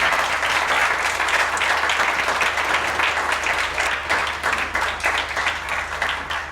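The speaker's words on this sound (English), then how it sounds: "I want you to give your teachers a very big round of applause" A graduation ceremony audience gives the teachers a big round of applause: dense, loud clapping from a large crowd that holds steady for the whole stretch.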